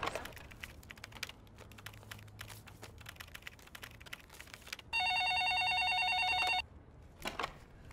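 Keyboard typing clicks in a quiet office, followed by a phone ringing loudly for about two seconds as a call is placed, then more faint taps.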